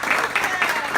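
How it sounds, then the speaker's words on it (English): An audience at a talk on social selling claps together, a brief burst of dense, fairly close applause lasting about a second. "Well, let's applaud what she's already done."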